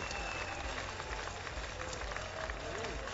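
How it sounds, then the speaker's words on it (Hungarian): Audience applause at a Dunaharaszti village festival evening with singing and dancing: steady, dense clapping from a crowd fills the whole stretch at an even, moderate level, with faint voices mixed in. "Köszönjük szépen a tapsokat"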